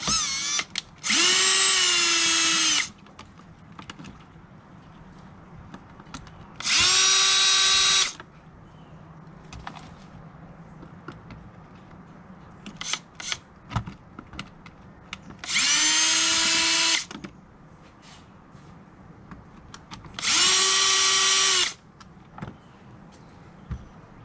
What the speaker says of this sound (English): I'm going to use a number 2 bit and go ahead and remove it.